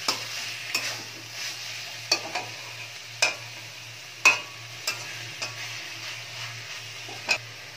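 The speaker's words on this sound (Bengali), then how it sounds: "এবার চিনিটা লাস্টে দিয়ে এটা একটু ভালো করে একটু মিশিয়ে নিচ্ছি।" Ash gourd and bori curry stirred in a pan with sugar added, a soft low bubbling under repeated sharp clinks and scrapes of a spoon against the pan, close, no voices.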